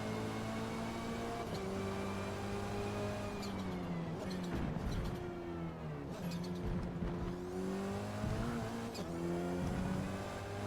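Cammus C5 race car in Forza Motorsport lapping Lime Rock Park, its engine note steady and loud throughout, rising and falling through shifts and corners, with faint tire squeal.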